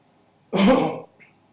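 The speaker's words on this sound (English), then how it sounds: "Sorry for coughing there." A single harsh, close cough with a throaty rasp, lasting about half a second and followed by quiet.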